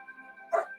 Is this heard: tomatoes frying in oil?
no